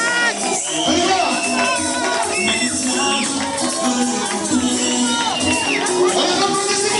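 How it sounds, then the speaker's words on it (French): Wedding guests cheer, whoop and shout for the newlyweds as they enter, a loud, dense crowd roar with high children's cries and voices running throughout. "On les applaudit s'il vous plaît! Encore du bruit!"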